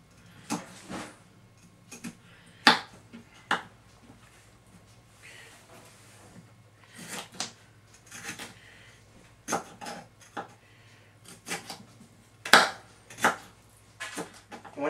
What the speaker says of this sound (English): And then we just chop them into little